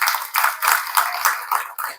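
An audience at a motivational speech breaks into applause: rhythmic, steady claps in quick repeated bursts, fairly loud and close, with no talking.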